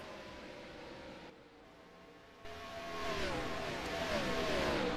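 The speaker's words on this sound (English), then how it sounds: "Some motorcycles go on by." Motorcycles pass by outdoors, a steady engine drone that swells and grows louder toward the end, heard alone without talk.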